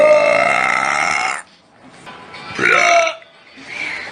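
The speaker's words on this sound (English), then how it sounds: "I'm the queen of burping." A loud, drawn-out burp from a woman, followed by two shorter belches after a brief pause, close and prominent with no talking over them.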